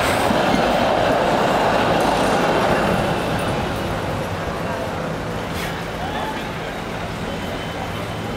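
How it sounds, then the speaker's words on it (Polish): A tram in Amsterdam rumbles past with rhythmic clacking of wheels on rails, loud and close at first, then fading slightly as it moves on. "Tu coś dla koneserów tramwajów"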